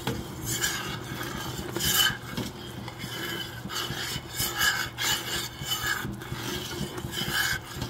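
Boiling hot pepper jelly in a pot being stirred with a utensil: a continuous rough scraping and rubbing against the pot in repeated strokes, close and fairly loud, with no talking.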